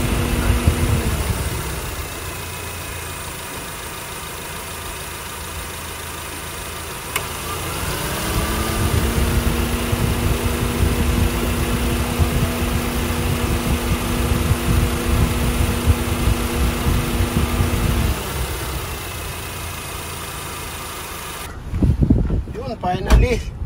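A Honda Civic FD idles with its air-conditioning compressor engaged after a belt tensioner replacement, a steady mid-low engine hum with a tonal whine that rises partway through, close and continuous, with people talking over it.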